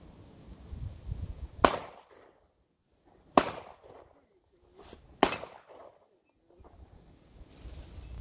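Three sharp, loud pistol gunshots from an SF 9mm 1911 ring out outdoors at a campout, spaced a couple of seconds apart, each with a brief echoing decay, over faint background murmur.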